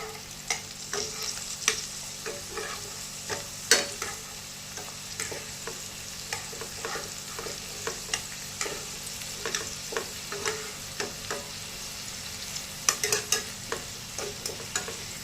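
Tomatoes frying in a pan for a Punjabi potato sabzi, a soft continuous sizzle broken by frequent sharp clicks and scrapes of tongs flipping the pieces, no talking.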